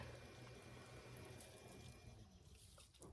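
Water being drained out of a container while sculpting an animal body, a steady, soft rushing flow that thins out toward the end, with no voices.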